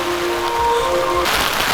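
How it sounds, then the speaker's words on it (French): Heavy rain pours down in a steady broadband wash outdoors in Japan, growing louder and denser partway through, with no talk over it. "c'est vraiment le déluge là"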